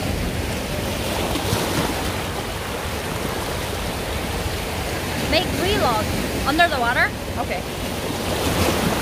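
Sea waves wash in a steady broadband roar close by, with brief faint voices and whistling sounds breaking through near the end.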